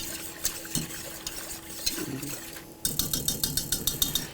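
A spoon stirs sugar into half and half in a bowl while making a trifle. It starts as a soft, irregular scrape, then turns into a quick run of steady, clinking strokes against the bowl.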